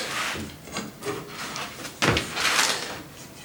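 A bar of a Moducase case slid into place, several close scraping and rubbing strokes of parts sliding along each other, with a sharper knock around the middle, and no one speaking.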